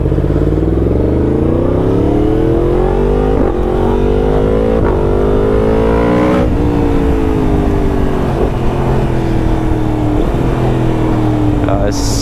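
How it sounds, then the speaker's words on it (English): Yamaha MT-10 Gen 2 motorcycle fitted with an Akrapovic exhaust, engine droning loud and steady while riding, pitch rising through gears with shifts and blips, heavy wind rush throughout. "same feeling that you've got a great big bike and engine underneath you."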